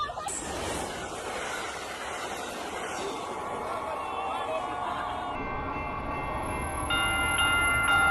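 An Amtrak passenger train rolls past with a steady loud roar of wheels and rail noise, its horn sounding near the end over the rumble.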